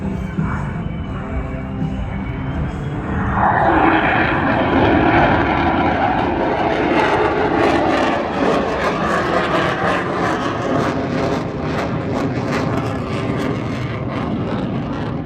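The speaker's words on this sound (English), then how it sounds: "With the F-35A Lightning II and the FA-18F Super Hornet, ladies and gentlemen" An F-35A Lightning II and an FA-18F Super Hornet fly past in mixed formation at the Avalon 2025 airshow at night, a loud jet roar swelling and then holding as a broad rushing noise.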